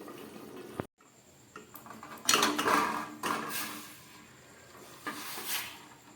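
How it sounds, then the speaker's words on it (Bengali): Lid set on a steel pot of fish curry with bata fish, ridge gourd and potato after the gas is turned off, a sharp metallic clatter and scrape followed by a few lighter clinks, close and fairly quiet. "বন্ধ করে একটা ঢাকা দিয়ে দিচ্ছি"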